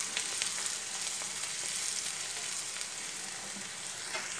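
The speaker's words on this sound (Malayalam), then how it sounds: "സവാള ഒരു 5-6 മിനിറ്റ് ഒന്ന് വഴറ്റി കൊടുക്കണം." Onions sauté in a pan for an Indian egg roast, giving a steady, dense hiss of frying that runs continuously and closely, with faint occasional stirring ticks.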